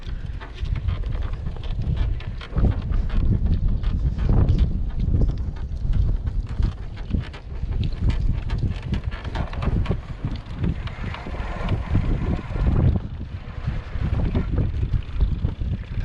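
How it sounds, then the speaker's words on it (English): Strong wind gusts buffet the microphone on the exposed west coast of Tasmania, a loud, continuous rumbling roar that rises and falls in waves throughout. "The wind's keeping it cool"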